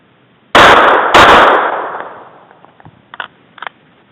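Two sharp, loud Glock 26 pistol shots about half a second apart at a shooting range, each ringing into a long decaying echo, followed by faint clicks and handling sounds.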